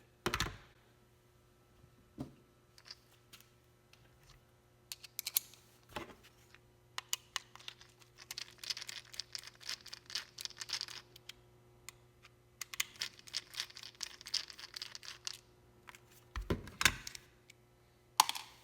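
A 12V lithium-ion battery pack is opened with a Torx bit, giving scattered close clicks and small metallic taps with a few denser bursts of scraping rattle in the middle. No one talks.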